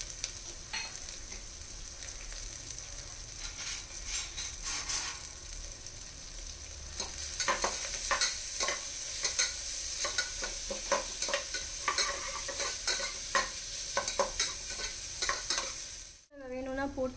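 Shallots and ginger garlic paste sauté in a pan under a steady sizzle, with a spatula scraping and clacking repeatedly as they are stirred, the stirring growing busier midway before a final clatter.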